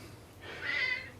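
A cat gives a single short, faint meow, rising briefly over a quiet indoor background.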